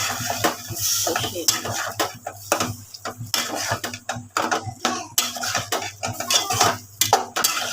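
Pieces of jackfruit go into a pan of spice masala and get stirred, with a spoon repeatedly scraping and clinking against the metal pan over a low sizzle, close and busy, with no voices.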